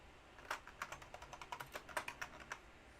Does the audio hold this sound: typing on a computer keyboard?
yes